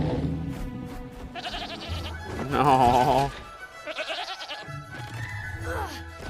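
Sheep bleating in an animated dragon movie, a few wavering bleats in the middle of the scene, mixed with dialogue, music and other film sound.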